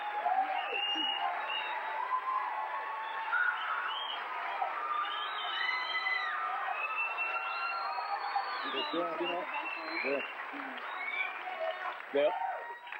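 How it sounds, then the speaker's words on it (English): A 1987 Tonight Show studio audience with Madonna keeps cheering and applauding, a dense, sustained roar of voices and clapping that fills the whole stretch at steady volume. "They're still cheering the monologue."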